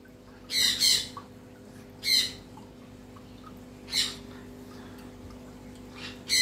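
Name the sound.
pet birds squawking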